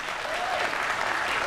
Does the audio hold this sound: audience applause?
yes